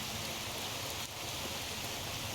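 Steady rain falling in the Fallout New Vegas video game, a dense even hiss that stays unbroken for the whole stretch with no voice over it.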